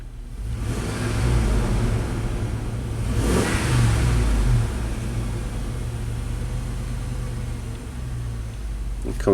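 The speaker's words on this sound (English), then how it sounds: "So I'm going to step on the gas, give it a couple snaps." A Dodge truck engine with an erratic idle is revved with quick throttle snaps, rising to a loud roar a couple of times before settling back to a steady, close idle hum.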